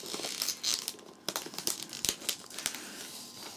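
Protective plastic film peeled off the base of a Mid-2011 Apple Mac Mini, with close, irregular crinkling and tearing crackles that rise and fall across a few seconds, alone.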